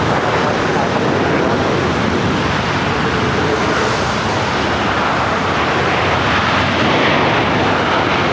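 A Southwest Boeing 737-700 at LAX lined up on runway 7 left gives off a steady, broad jet roar in wet weather, constant in level and fairly distant, blending with general airport noise.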